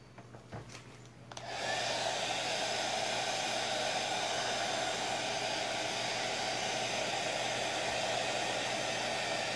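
A hair dryer switches on after a brief quiet moment and blows steadily with an even, loud whoosh while drying a painted MDF coat rack.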